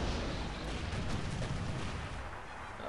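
Ship cannons firing chain shot in a naval battle in Sid Meier's Pirates: a low, rumbling barrage of booming shots blurs into a continuous roar, fairly faint and distant.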